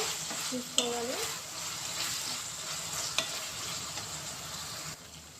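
A spoon stirs a cucumber and tomato curry in a hot pan, giving steady sizzling and frying with a couple of sharp utensil scrapes against the pan.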